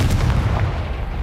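A Confringo spell blast in the video game Hogwarts Legacy: a heavy, booming explosive burst with low rumble, loud and sustained through the short moment.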